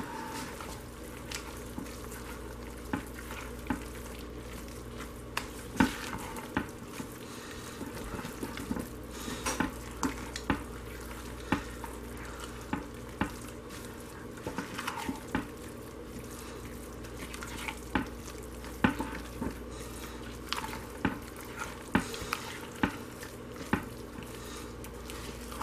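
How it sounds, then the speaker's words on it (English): Hard butters stirred in a pot as they melt for stick-blender hot process soap, with a steady low hum and scattered light scraping and clinking of the utensil against the container throughout. "I just got to mix it up a little bit because these are hard butters,"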